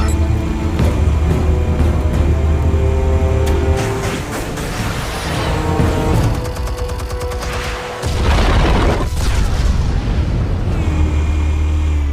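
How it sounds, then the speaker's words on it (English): Explosives detonate in the Batman Telltale Series video game: loud booming blasts and rumbling debris layered over a heavy low drone, with a sharp drop and a renewed roar partway through. "Explosives armed. Fire when ready."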